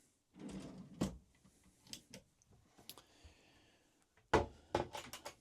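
Sharp wooden knocks and sliding rattles of a small cutlery drawer being opened and shut in a Gobbi 425 boat, several distinct clunks with quiet gaps between, close by.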